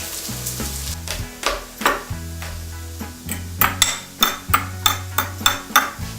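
Vegetable stir-fry sizzling in a pan with sesame oil, soy sauce and minced garlic, a steady fry broken by a rhythmic series of sharp utensil scrapes and clatters against the pan, heard over tonal background music.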